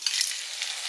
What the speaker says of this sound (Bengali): ফোড়ন দেব